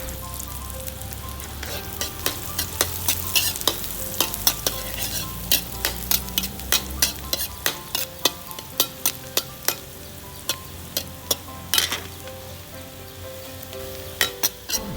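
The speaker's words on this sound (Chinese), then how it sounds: "先炒一下我们的大蒜" Garlic stir-frying in a wok, a steady close sizzle broken by frequent sharp scrapes and clinks of a utensil stirring against the metal, irregular and continuous throughout.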